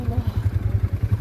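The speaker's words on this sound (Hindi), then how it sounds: "मैं चला रही हूँ स्नो बाइक इस तरह से।" A snow bike's engine runs close by with a steady, rapid low chugging pulse and no other sounds over it.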